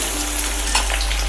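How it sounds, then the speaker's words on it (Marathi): Finely chopped onion frying in hot oil with garlic already turned golden makes a loud, dense, continuous sizzle up close, with a few soft stirring crackles on top. "लसूण सोनेरी झाल्यानंतरच आपण बारीक चिरून घेतलेला कांदा टाकायचा आहे"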